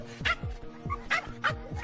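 Dogs bark from nearby houses in a suburban neighborhood, several sharp, repeated barks and yips in a quick, uneven rhythm, loud and close, with no talking.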